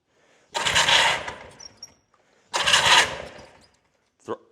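Outboard motor on a restored secondhand boat being started: two long bursts of broadband roar, each about a second and a half, separated by a pause, then a brief sharp knock at the end, with no one talking.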